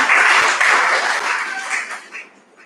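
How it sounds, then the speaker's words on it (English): A church gathering at a diocesan recollection breaks into audience applause, a dense crowd clapping that stays strong briefly and then tapers off over a few seconds. "let us clap for him"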